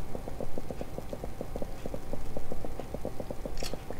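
Rapid, even clip-clop footsteps from a character walking in Minetest, the blocky building game, sounding just like a horse trotting nearby, with a brief higher clatter near the end.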